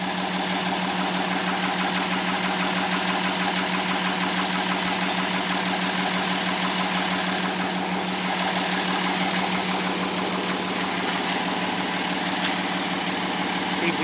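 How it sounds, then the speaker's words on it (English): A backhoe engine runs steadily up close while pushing down on a log held by a homemade Woodmizer sawmill crane, a constant loud droning rumble throughout. "now we're doing it again, but we're doing it with the backhoe"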